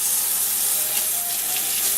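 Hot water runs steadily into a small white pan, a bright continuous splashing hiss that stays even and close for the whole moment.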